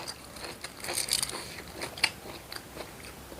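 Crunchy bites and chewing of a spicy Thai papaya-style salad with fresh raw vegetables, close and crisp, with sharp crackling bursts repeating over a few seconds and no talking.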